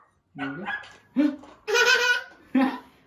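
A cartoon puppy barks in four short, high, yelping bursts separated by brief pauses, close and fairly loud.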